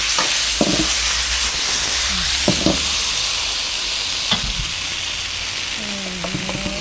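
Water spinach stir-frying in a hot wok on a close gas stove, with a loud continuous hiss and sizzle. Clanking spatula strokes come through, and faint voices sit in the background.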